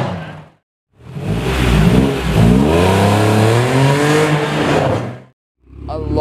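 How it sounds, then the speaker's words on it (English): A Honda NSX at a JDM import car show revs its engine in two loud, close bursts, the second rising and falling in pitch, with brief quiet gaps on either side. "Oh, that's two revs right there."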